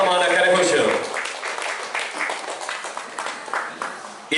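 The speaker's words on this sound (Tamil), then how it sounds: "ஃபர்ஹான் அவர்களுக்கு எங்களுடைய உற்சாகமான கரகோஷம்" Audience clapping for a guest at an awards launch ceremony in a banquet hall, swelling loudly at first and then settling into a steady, moderately loud patter of many hands, with voices faintly mixed in.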